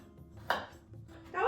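A knife chops garlic on a cutting board, two or three quick, close knocks against a quiet kitchen background.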